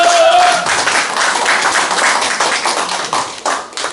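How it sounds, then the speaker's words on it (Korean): An audience at a talk claps together, a dense burst of hand claps that fills the space and carries on steadily, with no speech over it. "이때 박수를 한번 쳐야 됩니다."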